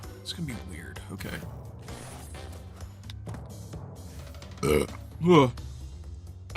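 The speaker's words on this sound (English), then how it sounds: "There was a lot of carbonation from the seltzer I'm drinking. Like, that burp helped." A burp after drinking carbonated seltzer comes through clearly near the end, a short bubbly belch rising out of a background of game audio and faint talk.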